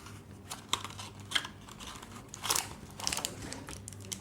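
A tube of Minoil Coco VCO lotion is opened with a few close, quiet plastic clicks and crinkles in short bursts, spaced over a few seconds against a near-silent background.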